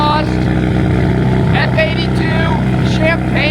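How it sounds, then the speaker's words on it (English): A BMW M4 F82 with Valvetronic exhaust rumbles nearby at a downtown Louisville car meet, a steady loud engine drone with a few revving swells, while people talk over it. "Yeah, we got the M4 here. Valvetronic exhaust"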